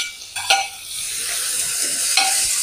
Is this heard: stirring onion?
yes